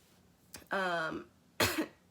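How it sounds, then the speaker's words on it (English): Two bursts of coughing, close and fairly loud: a harsh, drawn-out hacking cough followed about a second later by a shorter, rougher one. "I should not be coughing like that"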